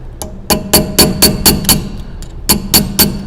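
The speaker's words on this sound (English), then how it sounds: "I'm going to take a chisel, so that way I can get it underneath this little tab, peel it up" A hammer strikes a chisel driven under a lock washer tab on a stub shaft, sharp metallic clanks in two quick rhythmic bursts, loud and close with a short pause between.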